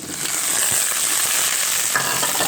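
Dry red chillies, curry leaves and turmeric crackle in hot oil for a tempering, producing a brief, steady, close sizzle with no voices.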